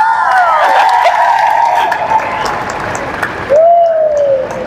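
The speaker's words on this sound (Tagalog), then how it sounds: "Kung alin yung mas maraming palakpak, panalo." Church congregation clapping in an applause contest, steady crowd applause with shouts and rising whistle-like cheers layered over it throughout.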